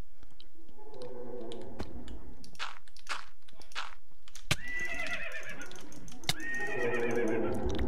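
A horse neighs in the Minecraft video game, a high whinny with a falling tail that repeats twice over steady background game sound, with faint clicking between the calls.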